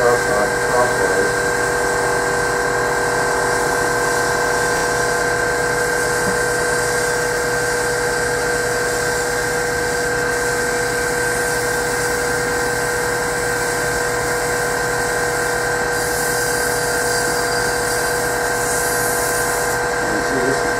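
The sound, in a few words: sanding a turned Christmas ornament spinning on a lathe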